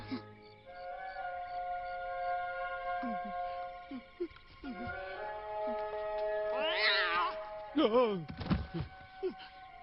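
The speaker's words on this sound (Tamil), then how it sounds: "புலிய பார்த்து பயப்படாதவன் பூனையை பார்த்து பயந்துட்டேன்" A cat meows several times in a row, with drawn-out, wavering cries and a short thud, set against a steady tonal background in an animated film scene.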